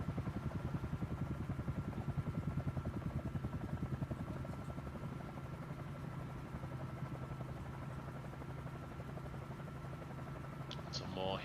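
Video-game helicopter engine spooling up to lift off from a runway on an African safari map, a steady rhythmic rotor chop throughout with a whining drone underneath, fairly loud.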